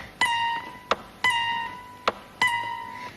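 Guitar imitating a little desert bird from a Bushman tale: three bright, sustained harmonic chirps, each followed by a sharp percussive swish or slap, repeating in an even pattern, close and clear with no talking.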